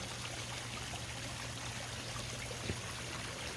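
Water cascades steadily through a Colorado Cascade water feature, falling from a constructed lake into a final pool. A continuous, even rush of moderate, close flowing water runs throughout with no voices.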